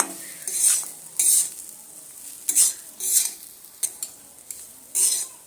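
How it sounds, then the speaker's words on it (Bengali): Semolina with cashews and raisins fries and is stirred in a pan, with repeated rhythmic scraping strokes of a spoon over a soft background sizzle. "আমি সমস্ত কিছু মিশিয়ে আরও পাঁচ মিনিট সময় ধরে সুন্দর করে ভেজে নিচ্ছি"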